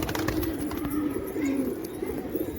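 Pigeons coo in low, soft, rolling tones close by, a continuous murmur with rustling in the background and no talking.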